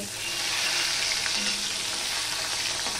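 Marinated fish fries in a kadai still oily from frying potatoes, giving a dense, continuous close sizzle at steady loudness with no talking.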